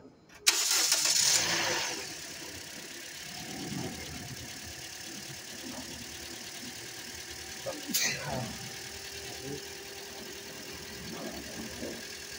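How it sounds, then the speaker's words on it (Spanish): A 2010 Toyota Corolla 1.8 with an alternator that isn't charging cranks and fires abruptly, then settles into a quieter steady idle while people talk faintly nearby. "Voy a prender el carro"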